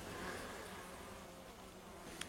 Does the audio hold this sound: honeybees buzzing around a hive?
yes